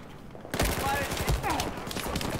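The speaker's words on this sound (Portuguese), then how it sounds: "Nossa, essa aí é a nova arma, né?" Rapid gunfire from a new weapon in Battlefield 4 multiplayer, bursts of close, sharp shots following a quiet opening and continuing densely to the end, with voices talking underneath.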